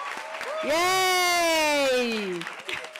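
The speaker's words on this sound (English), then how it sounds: "A big round of applause" An audience at an annual Women in Media and Communications event applauds, with steady clapping and crowd noise under a loud, drawn-out cheer from a nearby voice.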